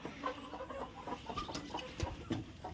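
Native country hens cluck softly near a nest of eggs, a few short irregular clucks and murmurs over low background rustle, close but faint, with no voices.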